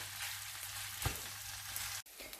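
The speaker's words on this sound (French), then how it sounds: "Vous les laissez revenir comme ceci jusqu'à qu'ils prennent une belle couleur." Swiss spätzli with wild garlic fry in a pan until golden, a soft, even sizzling hiss with one brief spatter midway and a short break toward the end.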